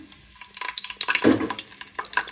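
Bay leaf, cardamom and cinnamon drop into hot oil, setting off a close crackling sizzle with scattered pops that swells to a loud burst midway and then settles into lighter spattering, with no voices.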